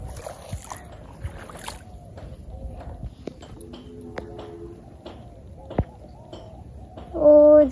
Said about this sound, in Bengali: মা নৌকা নিয়ে আইতাছে